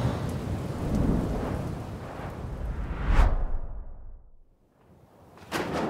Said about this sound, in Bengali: আর সাথে আচমকা প্রবল ঝড় বৃষ্টি শুরু হতেই যমুনা তার ঘরের দিকে দৌড়ে চলে গেল